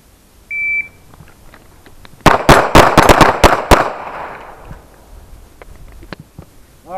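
A shot timer beeps once, and after a pause a pistol fires a quick string of sharp, loud shots at a tactical pistol exam, followed by a fading echo and quiet.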